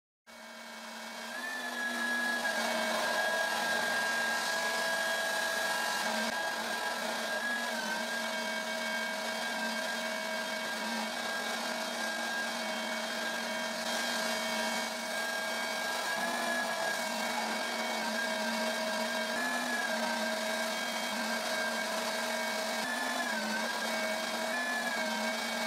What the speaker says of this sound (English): Now I use the belt sander to shape it.